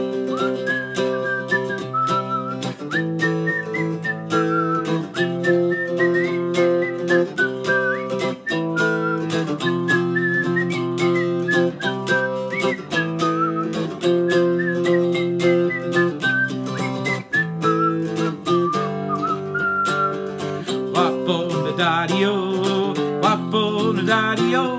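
A person whistles a lively melody for the Irish traditional song Whiskey in the Jar, with clear, continuous tones and steady phrasing that carry alone at close range.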